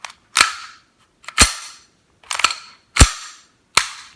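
Five crisp, snappy shots from a Tokyo Marui M&P 9 airsoft pistol fitted with a tan Detonator drop-in slide, spaced roughly a second apart, each a sharp clack with a short ringing tail, close and alone.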